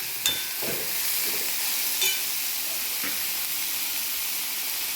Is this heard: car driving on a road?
no